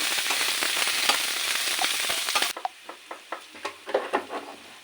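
Chicken pieces with spices frying in a pan give a dense, loud sizzle that drops sharply midway, leaving softer crackles and stirring scrapes at intervals.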